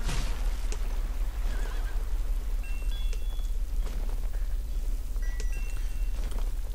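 Rain patters steadily in the video game Last Knight Rogue Rider, a constant hiss over a low hum, while a horse whinnies near the start and faint hoof clops and tones cut through.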